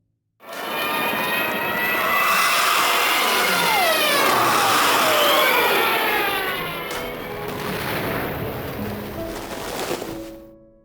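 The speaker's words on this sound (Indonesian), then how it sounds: "suara pesawat mulai terdengar. Samar, lalu semakin jelas." Engines of three German bomber planes drone loudly with pitch-bending whines sweeping down as they dive overhead, then the roar fades to a lower rumble.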